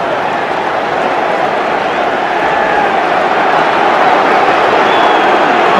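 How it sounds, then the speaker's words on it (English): Football stadium crowd at an Arsenal versus Chelsea Premier League match in 1996, a loud, dense, continuous roar that swells slightly toward the end. "The crowd are suggesting by their noise level that they think Viali ought to have been"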